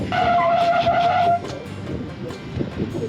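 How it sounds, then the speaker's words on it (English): Japanese minivan edging its right tire up onto a rock: a thin squealing whine over engine rumble for the first second and a half, then lower grinding and rumbling as the tire works over the rock. "Might be able to get it if you can hit that right tire up on this rock."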